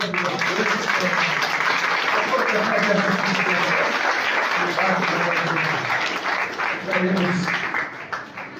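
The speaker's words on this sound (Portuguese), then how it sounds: "Vamos aplaudir a Deus." A church congregation applauds at an anniversary service in São Bento do Sul, a thick, sustained wash of clapping lasting several seconds with voices mixed in before it tapers off.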